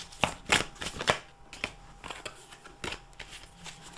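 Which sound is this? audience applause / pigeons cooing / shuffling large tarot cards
shuffling large tarot cards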